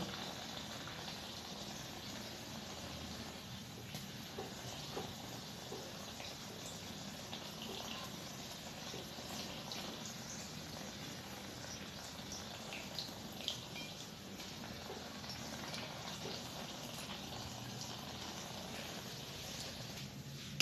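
Batter-coated eggplant slices, beguni, deep-frying in hot oil, a faint, continuous bubbling hiss that stays even and low throughout with occasional small pops.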